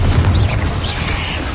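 The Confringo blasting spell in Hogwarts Legacy erupts as a loud, close, rumbling blast with a deep low-end roar that lingers through the whole moment.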